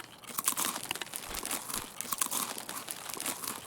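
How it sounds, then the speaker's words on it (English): A character eating food in Escape from Tarkov produces continuous close crinkling and crunching, like packaging rustled and food chewed, in a busy, uneven rhythm. "Crunching and munching."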